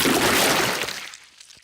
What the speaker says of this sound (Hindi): पेपा ने गंदा पानी पूरी गाड़ी के ऊपर फेंक दिया